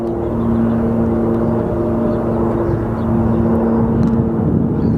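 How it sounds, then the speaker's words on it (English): Beechcraft King Air turboprop at an airport, a steady droning engine whine held with a sustained tonal hum, loud and constant throughout as it readies for takeoff. "I believe it is a King Air."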